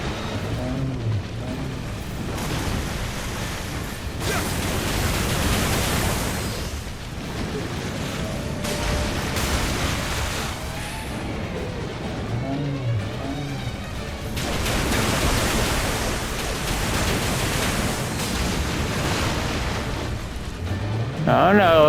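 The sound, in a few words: water splashing from Umi-Bozu boss in video game Nioh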